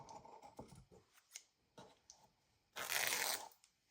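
Scissors snip a strip of paper while a junk journal is made from a sketchbook, heard as several short, soft cutting crunches and rustles, ending in one louder, longer rasping swish near the end, quiet overall.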